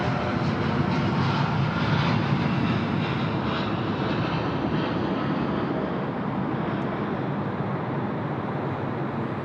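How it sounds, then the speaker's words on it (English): An ANA Boeing 787 jet takes off from Sydney Airport at night, its engines roaring loud and steady from start to finish with a broad rumble that eases only slightly toward the end. "our friends off to Haneda, the ANA 787, ripping it up at a rate of knots"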